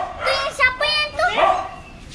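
A dog at an animal shelter in Alor Setar gives several close, loud barks and yips in quick succession with a short whimpering tail, and no talking is heard over it.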